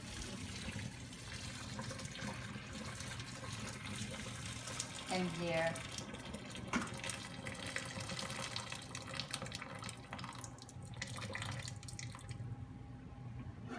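Hot water drains from a pot of boiled potatoes into a kitchen sink, a continuous splashing pour with gurgles and drips under a brief spoken phrase, fairly faint and steady throughout before thinning near the end.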